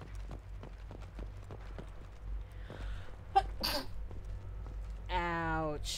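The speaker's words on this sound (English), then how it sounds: "That sneeze hurt my abs." A person sneezes sharply once, close and loud, amid rhythmic clip-clop footsteps from a video game and bits of talking.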